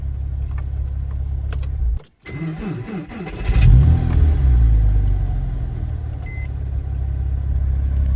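A Porsche 987 Boxster S flat-six is cranked while hot after a fix for its hot-start fault, catching after a short crank and settling into a loud, steady idle, with a faint jingle of keys just before.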